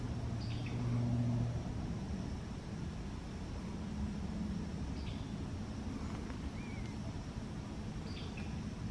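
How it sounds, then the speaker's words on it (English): Road traffic on Rundle Road near Iroquois Park in the morning: a steady, faint, distant wash of cars, with a few brief bird calls above it. "I hear the traffic down there on Rundle Road"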